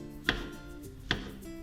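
A knife slices through mushrooms on a cutting board, cutting them about 5 millimetres thick. Two crisp, separate chops land close by, spaced under a second apart with quiet between them.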